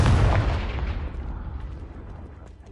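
A single Confringo spell explosion in the Hogwarts Legacy video game: a loud, close, deep boom that decays into a long rumbling tail over a few seconds, with no talking.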